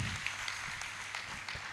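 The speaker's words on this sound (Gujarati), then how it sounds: "જોરદાર તાળીઓ આપણે જયમીનભાઈ અને એમની ટીમ માટે પણ" An audience applauds singer Jayminbhai and his team at a devotional commemoration gathering, with dense, steady clapping that carries evenly through the moment.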